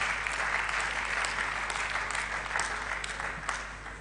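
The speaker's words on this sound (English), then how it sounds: "let us give a round of applause to our presenter" Steady applause from an audience claps on for several seconds, even and sustained, with no pauses.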